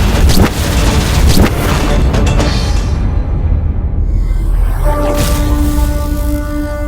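A loud, dense blast of rumbling noise fills the first seconds, with sharp bursts near the start, then thins into a sustained low roar as a ringing tonal drone rises toward the end, an explosion effect for a mythological battle scene.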